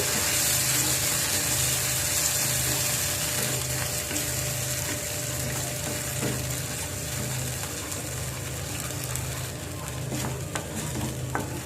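Ground spice paste sautéing in a pan for a vegetarian matar paneer, a steady loud sizzle that runs throughout with stirring scrapes and clicks over it.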